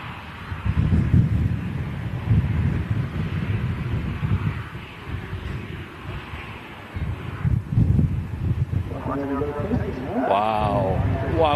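Strong gusting wind buffets the microphone at an airport, a steady loud rumble throughout, with a person talking near the end.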